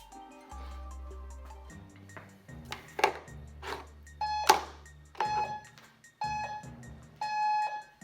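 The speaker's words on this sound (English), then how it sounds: "Okay, third beep, clock begins." A series of short, bright electronic beeps sounds over low hum and clatter, a few sharp tones spaced irregularly, close and clear.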